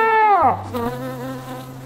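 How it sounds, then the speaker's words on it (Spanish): A buzzing insect drone with wavering pitch, close and fairly loud, sweeping down then holding steady alongside a low hum. "¡Una abeja! ¡Le persigue una abeja!"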